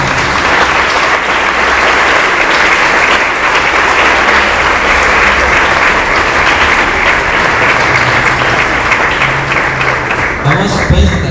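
Church congregation applauding in worship during a service, a loud, sustained wash of many hands clapping that carries steadily for several seconds before tapering off near the end.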